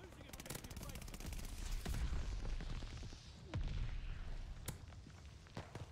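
An MG42 light machine gun firing in Warzone Pacific, rapid bursts of gunfire with sharp cracks and booms amid other battle noise, fairly faint overall.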